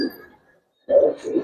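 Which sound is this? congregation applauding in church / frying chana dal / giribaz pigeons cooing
giribaz pigeons cooing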